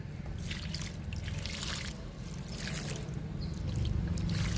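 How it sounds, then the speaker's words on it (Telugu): Water is poured generously onto a newly planted hibiscus cutting set in soil with charcoal, a steady close trickle and splash with a low rumble running underneath. "ఫస్ట్ టైం కదా మొక్కకు నీళ్ళు ఇవ్వడం, అందుకని కొంచెం ఎక్కువ ఇవ్వాలి."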